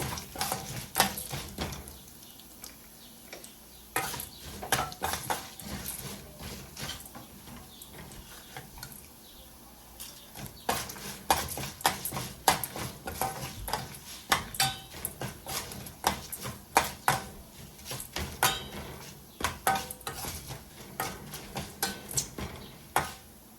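Dried red chillies and urad dal sauté in a pan for thuvayal, heard as repeated close metallic clanks and scrapes of a stirring spoon against the pan, with a faint sizzle underneath.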